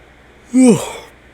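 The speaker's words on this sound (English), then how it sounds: "God damn it, I'm yawning" A single short yawn, a breathy voiced sound sliding down in pitch, heard close up against a quiet background.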